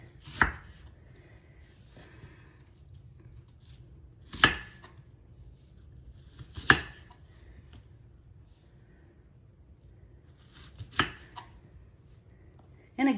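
A knife chops through onions on a cutting board as they are cut into petals for crispy onion petals, producing four sharp, close, isolated chops spaced a few seconds apart against a quiet background.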